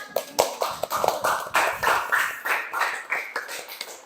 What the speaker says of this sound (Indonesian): tepuk tangan anak-anak